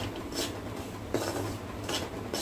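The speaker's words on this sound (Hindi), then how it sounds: "बस इसको अच्छे से मीडियम फ्लेम पे हम इसको हल्का ब्राउन होने तक इसको भूनेंगे।" Semolina stirred and roasted in melted ghee over a medium flame, a spoon or spatula scraping and clinking against the pan with soft intermittent rubbing, close and fairly quiet, no talking.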